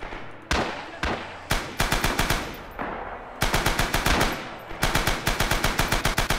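A machine gun fires in the video game Rising Storm: a few separate shots at first, then long, loud, rapid bursts of automatic fire with short pauses between them, close and dominant throughout.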